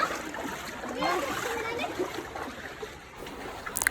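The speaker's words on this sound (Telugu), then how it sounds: "ఇక్కడ కడుక్కున్నదైతే వాటర్ ఆడుకుంటా పిల్లలు ఎక్కువ." Water splashes and sloshes nearby while children's voices chatter and call out over the steady wash of water.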